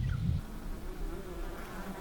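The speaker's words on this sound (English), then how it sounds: "The new bees have come from the almond beekeepers." A steady, low insect buzz of bees droning continuously, fairly close, with a slightly louder burst at the very start.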